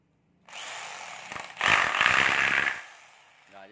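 A power drill set to plain drilling mode with the hammer function off, whirring steadily for about two seconds, rising in pitch as it spins up, then winding down.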